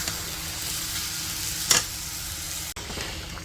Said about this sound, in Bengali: অনেকক্ষণ কষে নিচ্ছি, এখন একটু ঝোল দিয়ে দিই।